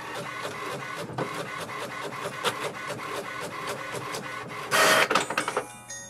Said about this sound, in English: Now after printing the welcome page